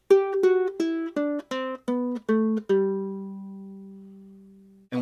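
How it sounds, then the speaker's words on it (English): Kala Metropolitan Curly Mango tenor ukulele strung with a low G plays a run of about eight plucked single notes, the final deep note sustaining and fading for a couple of seconds before another pluck begins, close and unaccompanied. "this is what it sounds like with the low G."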